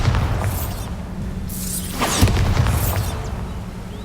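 A Bombarda spell exploding in Hogwarts Legacy, a dull boom with whooshing debris and crackling magic effects over a steady game backdrop, peaking near the middle and fading out.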